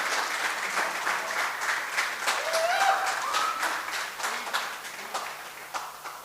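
Audience applause at the grand opening of a Hindu temple and community centre, a full round of crowd clapping with distinct claps standing out and a brief tonal sound in the middle.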